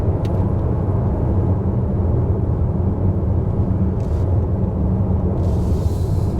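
A 2022 Hyundai Palisade Calligraphy SUV accelerates on the road, a steady low engine drone and road rumble heard from inside, even and continuous with faint clicks; no talking.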